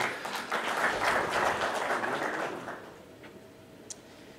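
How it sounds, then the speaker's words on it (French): Conference attendees at an engineers' forum on hydrogen give a moderate round of applause that swells, then fades to near quiet, with a lone faint click near the end. "je passerai la parole au directeur résident de la Fondation Konrad Adenauer, sous vos applaudissements, Stephen Hoffner."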